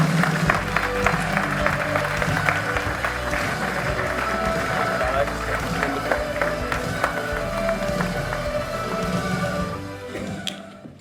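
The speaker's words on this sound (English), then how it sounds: "if you could please unleash a torrent of applause for Peter Grant as he joins the stage" A dense, sustained torrent of audience applause at a live talk session as a speaker walks onto the stage, fast overlapping claps running unbroken for about ten seconds before tapering.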